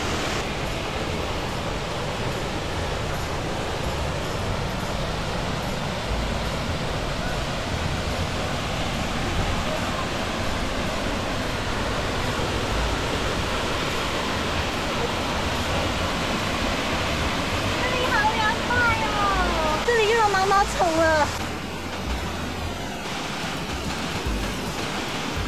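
Waterfall beside a cliff-face trail on the Meishan Zhukeng Creek route, a steady broadband rush of falling water throughout, with a short burst of birdsong or a high chirping call rising over it around twenty seconds in.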